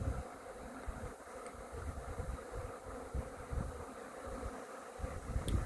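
Honeybees swarm around a hive in spring, a steady dense buzz of many insects droning continuously at close range with slight swells, no voices present.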